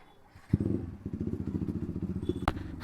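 A motorcycle with a modified silencer idles close by at about 1,500 rpm. It starts with a thump, then gives a rapid, uneven, throbbing putter with a loud crack near the end.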